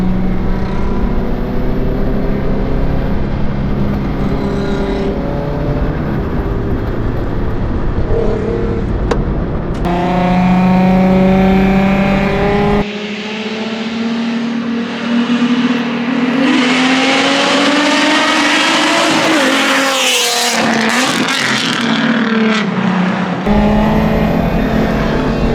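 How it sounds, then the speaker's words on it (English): A Subaru Impreza GC8 STI revs hard in a street race against a 350Z, its engine climbing through gears in loud, rising sweeps with brief drops between shifts, heard up close from inside the car. "I'm gonna roll my window so I can hear my own car better."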